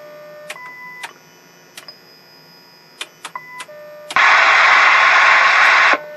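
Test tone from an old television set: a few brief electronic beeps and clicks over faint hum, then a loud, steady burst of broadband noise-like tone for about two seconds that cuts off abruptly.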